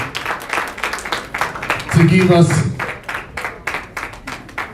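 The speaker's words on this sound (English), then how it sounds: "Please, a round of applause for El Natic as he steps off stage" Audience applause fills the room at an African entrepreneurship event as a performer leaves the stage, a steady patter of many hands clapping throughout, with someone speaking over it briefly partway through.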